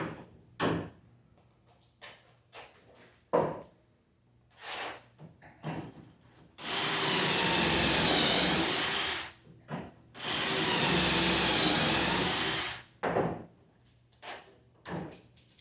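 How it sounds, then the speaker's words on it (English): A power drill driving pocket screws into a wooden desk rail: two sustained, loud whirring bursts of a few seconds each, close by, surrounded by quieter knocks and handling of wood. "I've just got to put some pocket screws in here"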